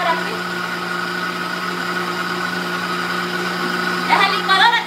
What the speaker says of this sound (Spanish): ¡Es la licuadora de volado!